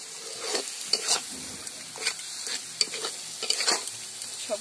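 Spices being sautéed with meat in a pan for a winter picnic dish, a steady close sizzle broken by repeated scraping stirs at irregular intervals, with no talking.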